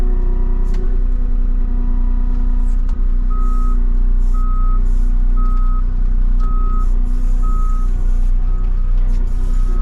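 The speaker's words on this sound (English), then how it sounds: "sorry about the beeping noise here." A truck's reversing alarm beeps in a steady repeating pattern over a loud, constant diesel engine rumble nearby.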